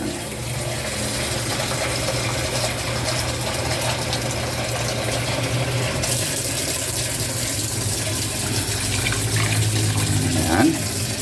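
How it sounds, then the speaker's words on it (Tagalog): Tap water runs steadily into a cooking pot for a whole chicken dish, a continuous close pouring wash with a low hum underneath and no talk. "Okay, lagyan na lang natin ng tubig yan."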